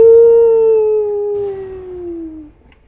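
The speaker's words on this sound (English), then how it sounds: "I forgot that his howling doesn't really sound like a wolf's howl." The Rune Bear in an Elden Ring mod lets out one long, loud, close howl that slowly falls in pitch and fades after about two and a half seconds, sounding more like a moaning voice than a wolf.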